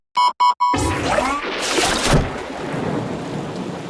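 After three short electronic beeps, a loud crack of thunder booms and rolls away into steady rain.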